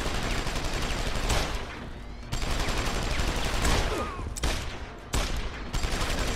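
Dense, loud gunfire erupts from the boss Barrett during a fight in Deus Ex: Human Revolution, with sustained bursts and brief pauses between volleys.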